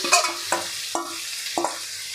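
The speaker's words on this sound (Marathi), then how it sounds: "आता हे चिकन आपण पाच मिनटं तरी आपल्याला हे परतून घ्यायचं आहे" Marinated chicken for Kolhapuri chicken is stir-fried over a high flame, with no shop-bought masala used. A spatula scrapes through the pan in four separate strokes over a soft, steady sizzle, close and alone.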